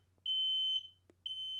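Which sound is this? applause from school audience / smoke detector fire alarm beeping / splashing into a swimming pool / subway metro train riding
smoke detector fire alarm beeping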